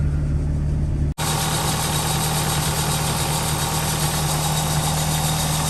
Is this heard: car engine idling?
yes